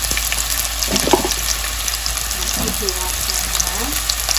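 Ground meat for sloppy joes sizzles in a pan, a steady hissing fry with soft scraping as it is broken up, and a voice murmurs briefly over it.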